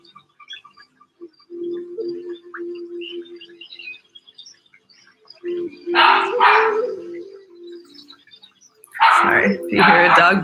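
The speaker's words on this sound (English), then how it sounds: "Sorry if you hear a dog barking over at the auntie." A dog barks in two loud bursts of a few quick barks each, close by, separated by quieter stretches with a low steady hum, and faint bird chirps appear in the background.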